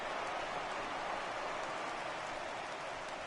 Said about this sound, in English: You just sensed it was coming with the heaviness of the rain